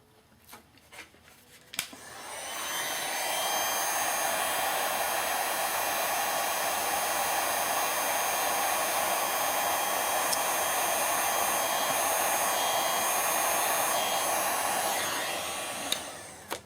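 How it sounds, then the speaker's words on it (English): Heat gun blowing hot air to shrink heat-shrink tubing on small coreless DC motor leads for an RC car, a loud steady blowing roar that starts after a few clicks and runs unbroken, close and alone. "we can go ahead and heat shrink this one"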